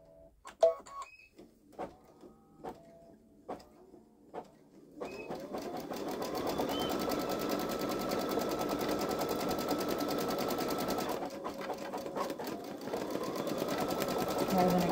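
A Baby Lock Solaris Vision embroidery machine stitching a design: a few sparse clicks and taps, then a steady, rapid mechanical whir and chatter that runs on with a brief dip partway through.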